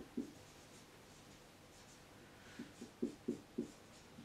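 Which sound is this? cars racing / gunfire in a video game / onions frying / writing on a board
writing on a board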